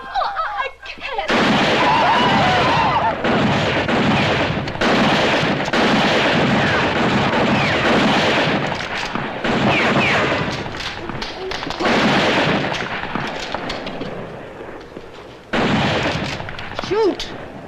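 Gunfire in a western TV show set in the 1959 Bonanza era, loud repeated bursts of shots and booming blasts over a dense, chaotic scene with people shouting.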